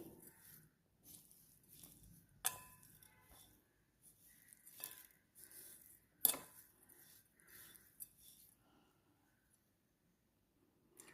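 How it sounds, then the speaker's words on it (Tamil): Hot ragi semiya puttu being stirred with sugar, a metal spoon clinking and scraping against a vessel in soft, irregular strokes with a few sharper knocks, quiet and close. "இப்போ இது எல்லாத்தையும் கலக்கணும்"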